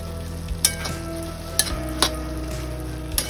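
Kokum petals stirred into a vegetable dish frying in a pan, a soft steady sizzle broken by several sharp spoon scrapes and taps against the pan.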